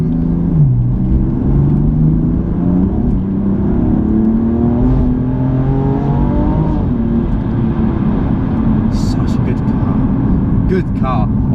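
A BMW M4 Competition with 510 bhp drives and accelerates, its engine note climbing through several rising pitch sweeps and gear shifts, steady and close from inside the cabin, with a few faint clicks near the end.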